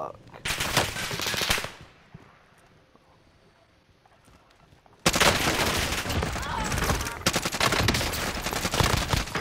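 Rapid bursts of video game gunfire from a first-person shooter firefight, loud and dense at the start, then a short quiet stretch before heavy continuous shooting resumes through to the end.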